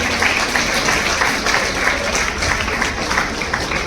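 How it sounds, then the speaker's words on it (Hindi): An audience at a railway workers' union women's wing gathering for International Women's Day gives a continuous, full round of applause that stays steady and loud for nearly four seconds. "तालियां बजती रहनी चाहिए।"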